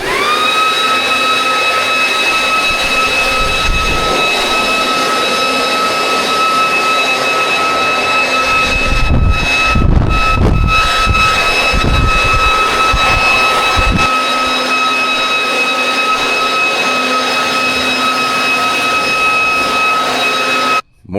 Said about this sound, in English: I don't even know if this blower works.